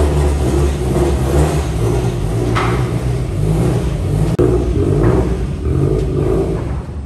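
A car fitted with a stock engine and a Link aftermarket computer runs strapped to a dyno during tuning, giving a steady loud rumbling drone with mild swells in revs and a brief sharp knock midway.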